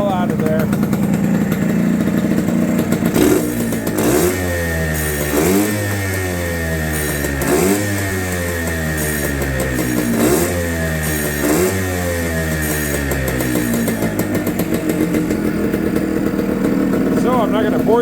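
Suzuki TS250 motorcycle engine running close by, idling then revved repeatedly in several rising and falling bursts, loud and steady throughout.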